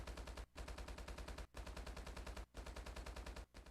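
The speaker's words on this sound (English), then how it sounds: "just a gunfire to go off constantly. It's a bug, apparently, it seems like, in the game." Constant rapid gunfire glitching in a laser tag video game, a dense machine-gun-like rattle that keeps looping with brief gaps about once a second, loud and unbroken with no voices.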